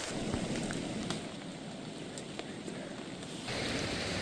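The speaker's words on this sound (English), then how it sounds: "Day 3, still raining" Steady patter of rain falling on surfaces in an Alaskan swamp, a constant close hiss with scattered droplet ticks throughout.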